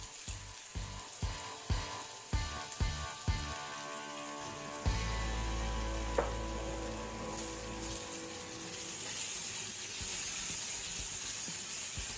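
Mushrooms hitting a hot pan and searing undisturbed: a series of sharp sizzling drops, then a continuous loud hiss that settles into a softer steady crackle, with no talk.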